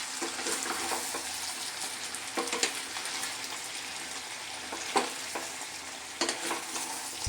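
A spoon stirs raw jackfruit and mutton curry in a pan with a soft, continuous sizzle and scraping, broken by a few sharper knocks against the pan; no one speaks.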